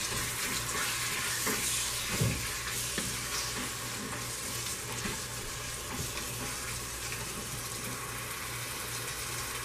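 Chopped tomatoes fry in a pan for mutton biryani, giving a steady close sizzle with occasional stirring clinks and scrapes throughout, no voices.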